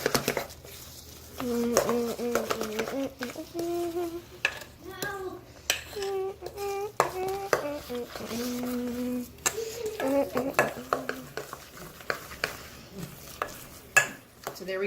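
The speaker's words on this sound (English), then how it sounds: "So yep, now it just gets mixed." Falafel mixture is stirred in a bowl by hand, with scraping and clinking of the utensil throughout, under voices that talk over most of the stir.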